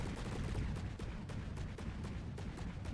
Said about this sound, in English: That is the sound of a rail-powered, burst-fire APS gun in From the Depths